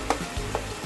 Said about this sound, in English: So just stir fry for a while till soft.